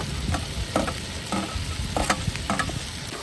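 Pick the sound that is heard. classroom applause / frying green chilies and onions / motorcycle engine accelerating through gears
frying green chilies and onions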